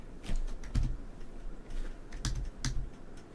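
Typing on a computer keyboard into a spreadsheet during a live game stream, heard as two short clusters of quiet, nearby key taps with a pause between them and no voices.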